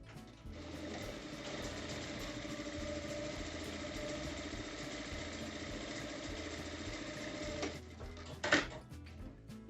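A sewing machine runs one continuous, even stitching pass along a fabric bag lining, a close, steady mechanical whir that stops near the end with a brief clack.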